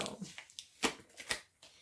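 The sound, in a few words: opening a subscription box by hand without scissors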